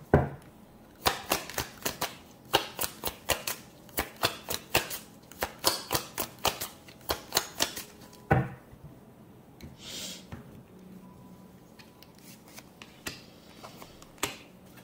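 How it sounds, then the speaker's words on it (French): Tarot cards are drawn and handled one after another in a quick run of sharp, close snapping and flicking sounds, followed by a quieter stretch with occasional soft handling noises. "On va prendre ici encore 2 cartes."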